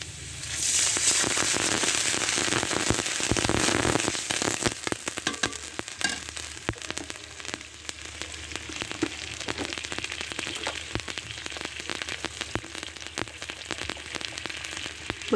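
Water poured into a pan of hot frying onion and garlic for a fish curry bursts into a loud, dense hiss that settles after a few seconds into lighter, crackling bubbling.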